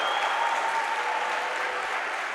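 A basketball crowd at a Union vs. Trevecca Nazarene game cheers and applauds after a three-pointer, a dense, steady roar of clapping and voices that holds at full level throughout.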